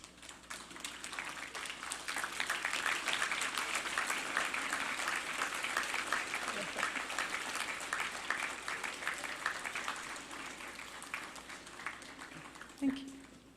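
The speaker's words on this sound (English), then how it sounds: "Now would be a good time to stand and applaud all who have helped to" Convocation audience rises and applauds for a long stretch, a broad wash of clapping that swells, holds, and slowly tapers off, with a voice emerging at the close.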